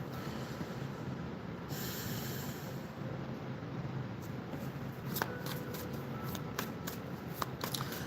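Romance Angel oracle cards are shuffled close by in a steady, continuous riffling rustle, with sharper card snaps and flicks toward the end.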